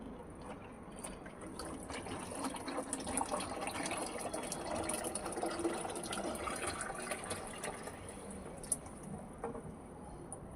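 Liquid organic fertiliser pours steadily from a garden container, a continuous wet splashing and trickling close by that runs for the whole stretch with no talk over it.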